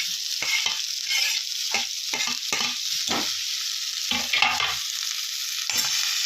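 Carrots and peas tossed into a hot oiled pan for a millet khichdi, sizzling steadily while a spoon scrapes and stirs in repeated close strokes, with no talk.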